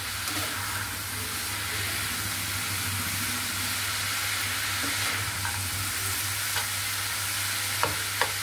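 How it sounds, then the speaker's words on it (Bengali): Bottle gourd greens stir-fry in a pan with pumpkin bori, giving a constant close sizzle and hiss. Occasional light clinks and scrapes of stirring break through the frying. "এখন আমি শাকটাকে সুন্দর করে ভেজে নেব কিছুক্ষণ।"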